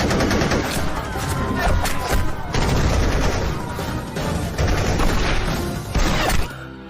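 Dense, continuous bursts of rapid gunfire, loud and chaotic, with overlapping shots and booms filling almost the whole stretch before cutting off abruptly.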